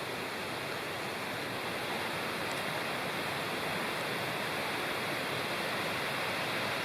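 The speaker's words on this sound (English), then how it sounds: "And the creek is right over there, which I think you can probably hear." A creek in the North Fork of Citico Creek area of Cherokee National Forest rushes steadily nearby, a continuous broadband water hiss with no breaks and no voices.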